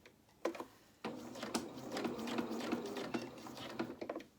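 A sewing machine stitches a seam and back tacks to reinforce it, running in a steady mechanical whir with rapid ticking after a few short starts, close and moderately quiet.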